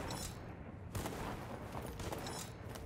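Gunfire in the video game Voidtrain, a dense, continuous rattle of shots with a sharper burst near the middle, steady and fairly loud throughout with no break.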